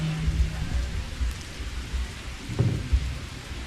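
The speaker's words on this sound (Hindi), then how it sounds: "देखिए, बारिश तो बहुत मौके से आई है" Rain falls steadily during an outdoor Hindi religious seminar, a dense, even hiss with a few soft low thuds and no clear talk.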